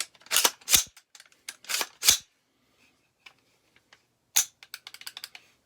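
AR-15 mid-length rifle trigger being pulled repeatedly, giving sharp, crisp metallic clicks in a sparse irregular sequence close to the microphone, with quiet gaps between bursts.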